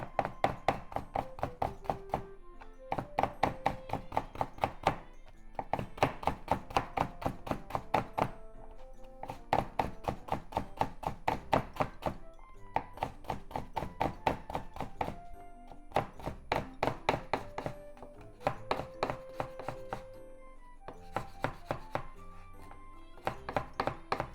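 A knife chops food into strips on a cutting board in a home kitchen while spicy pork and vegetable miso soup is prepared, with quick, even runs of sharp thunks broken by short pauses between bursts.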